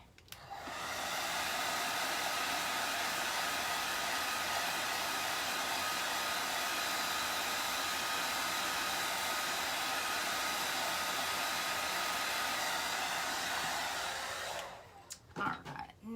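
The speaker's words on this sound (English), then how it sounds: "I'm going to give that one more dry just to get that good and dried" A hair dryer runs steadily at close range for about fourteen seconds, drying paint on a craft project, then cuts off, leaving a few faint handling clicks.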